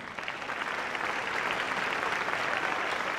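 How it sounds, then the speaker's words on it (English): Audience applause at the Miss Ohio 2010 pageant: a dense, steady wash of many hands clapping at once, loud and sustained throughout with no talk over it. "applause."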